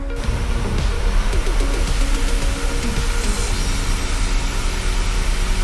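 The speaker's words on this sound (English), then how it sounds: "You can hear the engines spool down, and we're descending" The jet engines of a PMDG 737-700 in Microsoft Flight Simulator produce a steady, loud roaring drone during descent, broadband and constant throughout, with no voices.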